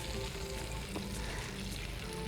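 Cumin seeds sizzling in hot ghee with melted butter in a pan, a steady, bright crackling hiss at close range that holds evenly throughout without any voices.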